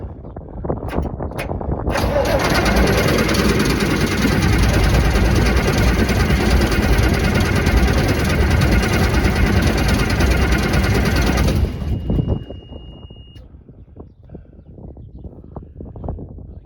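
A Perkins 354T turbo diesel cold starts at full throttle: after a few knocks it catches and roars loudly and steadily for about ten seconds, then cuts back to a quieter rumble.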